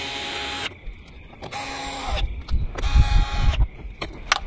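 Screws being tightened into plastic parts during an intake camshaft VANOS solenoid replacement on a BMW 320i E92 with an N43 engine: close, rough mechanical whirring and grinding in short uneven runs.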